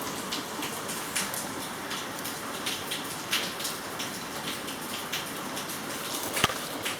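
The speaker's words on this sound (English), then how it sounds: "Listen to the rain out there." Steady rain falling outdoors, a dense even hiss of drops with a few louder patters and splashes near the end, heard alone with no talking.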